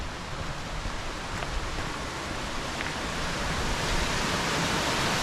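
Water cascading down a stream in the Mardale Valley near Haweswater, a constant broad rushing hiss that builds slightly toward the end, steady and close, with no voices.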